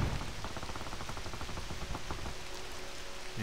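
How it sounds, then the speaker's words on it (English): Steady rain falls across a dark outdoor level of the LEGO Jurassic World video game, a continuous even hiss of drops with a few soft low thumps, no talk over it. "Now it's getting dark and rainy."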